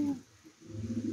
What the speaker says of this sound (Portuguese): Então vamos jogar essa pomba aqui, ó.